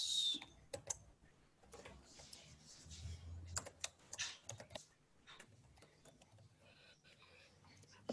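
Computer keyboard typing while JavaScript and CSS file paths are entered for a browser extension, light irregular clicks and taps under a quiet voice speaking intermittently.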